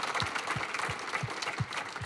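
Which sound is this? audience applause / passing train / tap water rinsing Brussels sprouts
audience applause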